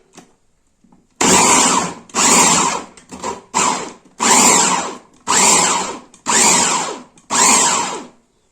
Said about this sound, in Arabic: وهجيب بقى البصل كده وافرمه كمان في الكبه